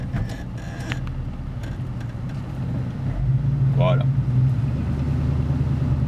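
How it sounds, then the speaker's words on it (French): A 1962 Ford Country Squire wagon with a 352 cubic inch V8 and column-shift automatic is out on the road, its low engine drone steady and then swelling slightly, while someone speaks briefly in French. "Moteur V8 de 352 cubic inch."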